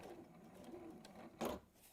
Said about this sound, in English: And there that is, top stitched all the way around